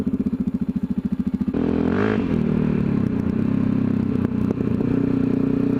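A Yamaha XT660Z Tenere single-cylinder engine thumps in a quick, even pulse, then shifts into a continuous, louder ride drone with rising revs and some clatter, close and up front.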